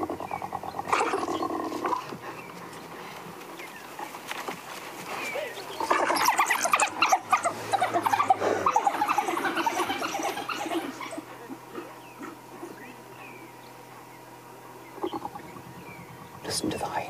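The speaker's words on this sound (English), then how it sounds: "Listen to the hyena." A hyena vocalizes among wild dogs on an African safari, with bursts of whooping, growling calls rising loudly in the middle; a voice speaks softly beneath at times.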